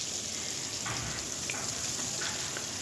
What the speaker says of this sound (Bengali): আর একটু তেল দিয়ে দিলাম, আর দিয়ে দিলাম পেঁয়াজ আর কাঁচামরিচ।